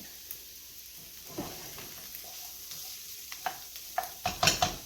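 Chicken browning in a pan for couscous, a soft low sizzle with scattered stirring scrapes and utensil clicks that grow louder and more frequent toward the end.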